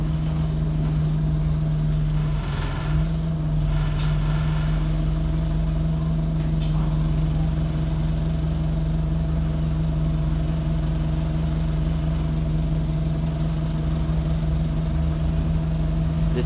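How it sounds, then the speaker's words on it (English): Single-decker bus with fleet number SDE20282 and registration YX14 RYU, heard from inside on Eden Street: a steady, loud engine drone runs throughout, with short bursts of air-brake hiss near the start and around the seventh second. "This bus doesn't make as much noise as SDE202AO does."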